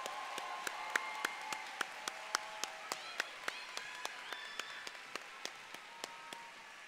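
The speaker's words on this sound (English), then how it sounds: "Let's give one more big round of applause for the choir." A graduation ceremony audience claps for the choir. Regular, evenly spaced claps, roughly three per second, ring out against a hum of soft crowd sound and some faint voices, fairly distant in a large hall.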